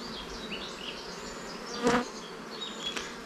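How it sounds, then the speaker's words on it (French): Bees buzz steadily around a hive, several passing close with a louder drone among the softer, layered humming. "Là, il y a plein d'abeilles dans la ruche."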